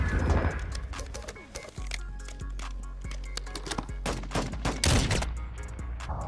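Intervention sniper rifle firing in a video game, tuned for fast aiming: about five sharp, loud shots come in quick succession over a steady game-ambience bed, with no voices.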